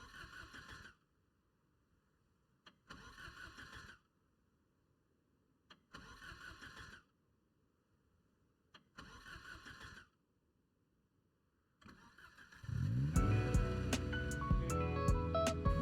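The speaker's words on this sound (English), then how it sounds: "used my burglar trade to hotwire the car" A hotwired car engine in the video game Project Zomboid cranks in four short bursts separated by pauses, then on a fifth try catches and settles into a steady running roar.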